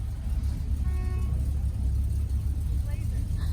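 Customized Chevrolet Blazer at a town car cruise night parade, a low steady engine rumble close by, with people talking over it.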